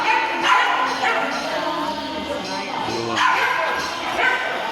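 Several dogs yip, bark and whimper close by at a free dog and cat neutering event in Barangay Sibulan, Polillo, Quezon, a steady anxious chorus with human voices mixed in.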